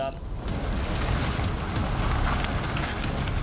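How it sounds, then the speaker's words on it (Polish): A building collapses into a swollen, flooded river, a heavy rumbling roar of rushing water and debris that stays loud and continuous throughout. "Budynek zawala się i wpada do wezbranej rzeki."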